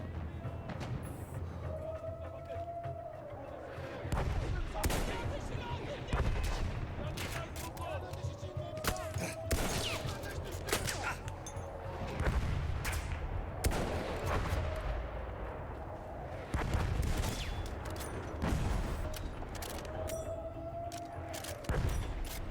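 Repeated bursts of gunfire in Battlefield 1, the World War I shooter, recurring every few seconds over a steady battlefield din, with a rising whistle-like tone in between and a player talking over it.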